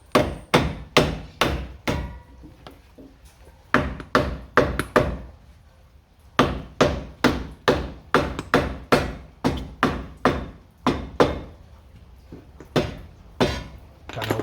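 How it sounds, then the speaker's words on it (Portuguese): A hammer strikes a small wooden block beneath a suspension part during a swing-arm bushing replacement on a 2004 Honda Fit, in sharp close bursts of rapid knocks separated by short pauses, with no talking. "Pegar um taquinho de madeira para poder bater com o martelo aqui embaixo e não machucar aqui a minha peça."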